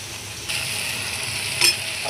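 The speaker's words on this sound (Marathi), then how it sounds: "फोडणी मस्त लागलेला." Whole spices and garam masala sizzle in hot oil while tempering a spicy drumstick (shevga) curry in a home kitchen, a steady close frying hiss with a brief sharper crackle near the end.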